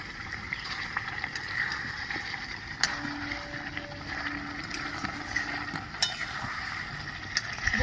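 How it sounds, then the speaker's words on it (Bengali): Chicken maharani sizzling and being stirred in a pan after the pot lid comes off, a steady close frying hiss with occasional clinks and scrapes, no talking. "ঢাকাটা খুলে একটু নেড়ে নিচ্ছি"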